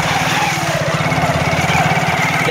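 A motorcycle engine runs close and loud with a steady, rapid putter, holding an even idle-like rhythm throughout with no talk.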